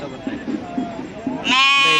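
Bandur sheep bleating at a village fair, a loud wavering bleat rising near the end, with people talking beneath.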